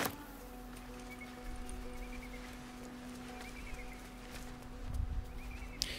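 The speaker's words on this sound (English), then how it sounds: "Those are horses." Horses in the video game Baldur's Gate 3, with soft hoof clip-clops and faint whinnies over a steady ambient game hum, distant and low in level, with no talk.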